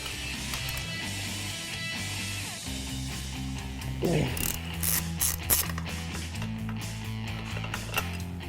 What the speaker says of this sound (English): What we're going to do is remove these 2 bolts down here.